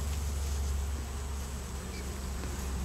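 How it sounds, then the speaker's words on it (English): Undertaker bees at a hive hauling away dead bees, a steady low buzzing hum of many insects close by, continuous and even, with no voices. "undertaker bees doing their duty."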